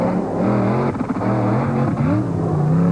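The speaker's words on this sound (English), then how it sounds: "Chevrolet S10 supercharged engine" The supercharged Chevrolet S10 engine with twin carburetors in a monster truck revs hard and close, its pitch rising and falling in continuous loud surges.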